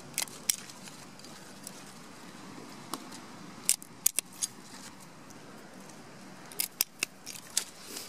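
Raspberry canes are cut at the base during autumn pruning of summer raspberries, with a series of quiet, sharp snips at irregular intervals over soft outdoor background noise.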